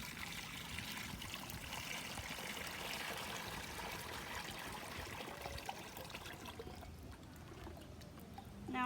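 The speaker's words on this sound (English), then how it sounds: "So now I can pour the liquid clay through the screen" Liquid clay, processed from local clay, is poured through a screen, giving a faint, continuous trickling and splashing stream that eases off near the end.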